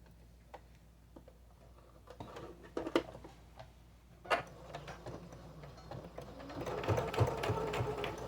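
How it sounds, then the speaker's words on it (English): Quiet mechanical ticking and clicking of a sewing machine stitching an apron, irregular at first, then a steadier whirring run of stitches near the end. "I do have my sewing machine set at 0 for the stitch"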